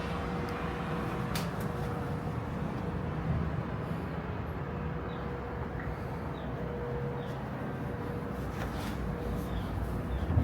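Busy street traffic outside a San Diego hotel room pours in through open balcony doors as a constant, fairly faint wash of road noise with no single vehicle standing out.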